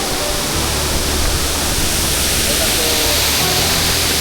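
Waterfall at Jinju park in South Gyeongsang Province, Korea: a loud, steady, broadband rush of falling water close by, constant throughout, with a voice faintly under it.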